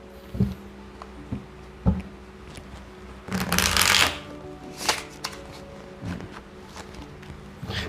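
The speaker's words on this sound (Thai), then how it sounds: "ออนุญาตสับไพ่ก่อนนะครับ" Playing cards are shuffled close up in short riffling bursts, with a longer, louder riffle in the middle, over a quiet background.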